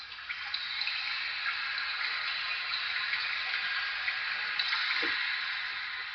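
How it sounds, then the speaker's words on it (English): Close, bright patter of rain striking water, a constant fizzing spatter with a few distinct drips standing out. "close perspective of rain on water, which sounds a little bit like this"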